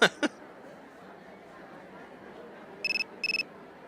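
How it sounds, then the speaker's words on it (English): Phone ringing in the video game Persona 3 FES: two quick bright chimes, then two short bursts of a trilling electronic ring against a soft background hiss, with no talk. "Oh, a phone call. Or text message."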